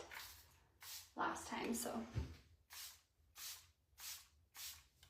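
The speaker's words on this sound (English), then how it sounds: "this is the Tarte LifeLock Hydrating Setting Spray" A Tarte LifeLock Hydrating Setting Spray bottle is spritzed, producing a series of short, sharp hissing mists spaced about half a second apart, with a brief stretch of speech early on.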